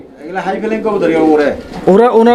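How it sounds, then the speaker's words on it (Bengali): A pair of fancy Damascene pigeons coo in low, rolling tones, with a voice speaking over them close to the microphone. "দর্শক দেখতে পাচ্ছেন একজোড়া ধামাসিন কবুতর"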